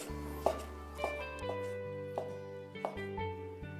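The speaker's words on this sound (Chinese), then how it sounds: "再把洗净的香菇给它切片" A knife slices soaked, rinsed shiitake mushrooms on a board, producing about five crisp, evenly spaced taps over steady background music.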